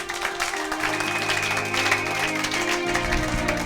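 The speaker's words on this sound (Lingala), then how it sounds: "Acclamons pour la gloire de Jésus" Congregation applause during a church sermon, a steady wash of clapping from a crowd, fairly loud and continuous for a few seconds with no talk over it.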